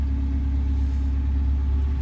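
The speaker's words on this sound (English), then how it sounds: "the engine is running" A 1966 Datsun 1600 Roadster's engine idles nearby, an even, loud low rumble with a steady throb and faint higher mechanical whine, running continuously without any talking.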